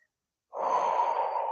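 One long, steady breath drawn through the nose, close and clear, starting after a brief silence and sustained without any talk.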